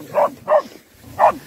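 Dogs barking at a bear in the woods: three sharp, close barks in quick succession, the last after a short pause.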